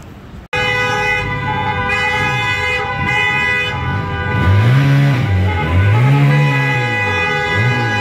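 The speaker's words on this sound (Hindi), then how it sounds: "तेज़ तेज़ से हॉर्न बजा के जा रहे हैं लड़के" Vehicle horns blare on a busy street during Chand Raat celebrations, long loud sustained honks layered over each other with a warbling, siren-like horn rising and falling over traffic noise.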